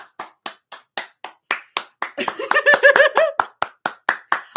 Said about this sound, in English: A moment of applause for Rumi for finally realizing her shit.